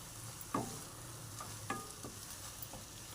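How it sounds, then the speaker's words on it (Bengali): A fish kofta mixture being stirred with a little flour in a frying pan, a quiet continuous sizzle broken by a few soft scraping stirs, close but faint. "দেখুন, ময়দাটা দিয়ে একটু নাড়িয়ে নিতে হবে যাতে ময়দাটা ভালো করে মিশে যায়"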